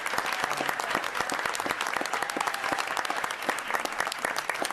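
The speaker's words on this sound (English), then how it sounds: "Another round of applause for Eric and the Portsmouth." Audience applause at a city council inauguration, honoring Eric and the Portsmouth musicians: a steady, dense wash of many hands clapping at moderate distance, with faint voices mixed in.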